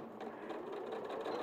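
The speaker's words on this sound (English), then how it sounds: "So I'm just sewing down the length of that" A sewing machine runs steadily, stitching down the length of a fabric facing, a close, continuous mechanical whir with a fine rapid rhythm and no talking.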